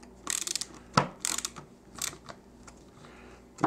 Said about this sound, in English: we'll just, dig out the old trusty Craftsman ratcheting screwdriver,